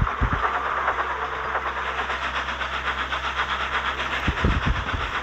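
A cartoon steam engine from Thomas & Friends puffs steadily down the line, a continuous rhythmic chuffing with faint clickety-clack and low rumble, alone without talk.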